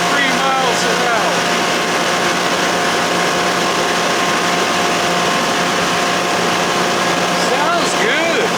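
A 60 hp Johnson outboard motor drives a boat at about 3,600 RPM, a steady, loud drone with a constant tone that holds unbroken throughout, with wind and water rush mixed in and no voices.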